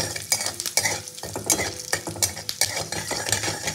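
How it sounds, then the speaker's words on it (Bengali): Whole cumin and a dried red chilli sizzle in hot oil, a bright steady frying hiss broken by repeated scrapes and clinks of a stirring utensil against the pan. "এই তেলের মধ্যেই আমি ফোড়ন দেবো আমি গোটা জিরে আর একটা শুকনো লঙ্কা"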